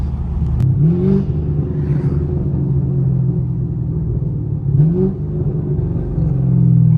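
A 500hp Camaro SS on a neighborhood drive gives a deep, steady engine rumble from inside the car, with two brief rising revs, loud and continuous and heard alone.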